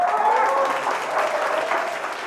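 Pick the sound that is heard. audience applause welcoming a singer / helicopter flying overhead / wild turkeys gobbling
audience applause welcoming a singer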